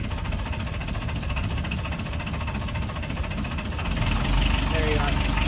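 An old abandoned sailboat's engine runs at a steady, knocking idle, close and rough. Its rumble swells briefly near the end, and voices are heard over it.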